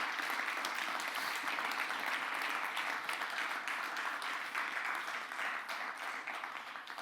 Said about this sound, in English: So quick round of applause for all of you for building.